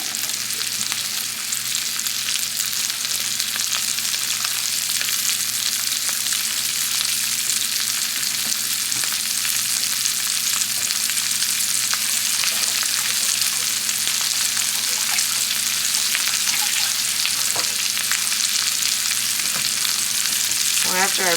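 Haddock pieces and onions stir-fry in a pan with a steady, dense sizzle that continues throughout the clip, with light stirring scrapes and no talk.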